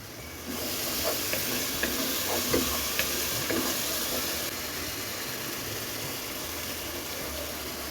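Potatoes fry for khichuri in hot oil, giving a steady close sizzle and hiss that starts suddenly and runs throughout, with a few faint clinks of stirring over it and no one talking.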